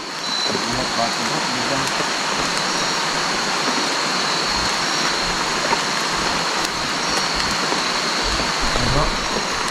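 Steady rain falls outdoors among tall trees, producing a dense, even hiss that stays at a constant loud level throughout, with no pauses.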